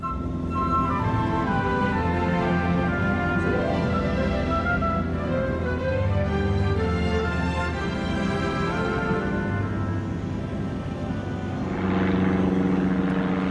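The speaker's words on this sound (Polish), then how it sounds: "Sąsiad Roberta zaprosił ich na wycieczkę prywatnym śmigłowcem." A private helicopter in flight fills the air with a steady, loud engine and rotor drone that holds throughout, with no talk.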